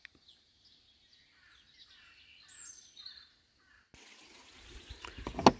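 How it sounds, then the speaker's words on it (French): Soft, distant bird calls chirp faintly outdoors outside an opened van door, followed by a rustling, rising noise near the end. "On ouvre la porte, on entend les petits oiseaux comme ça."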